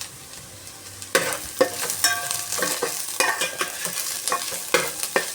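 Onions and green chillies frying in a pan for chicken thoran, a bright crackling sizzle that swells after a second, with frequent clattering stirs from a spoon.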